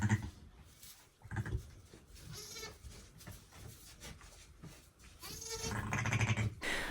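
Ewes bleat close by among newborn lambs in a windy spring pen on an Alaskan homestead. Several wavering calls rise and fall over a few seconds, with a louder, sustained bleat near the end.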